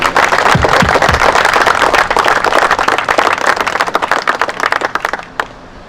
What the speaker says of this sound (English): I think we should do a big round of applause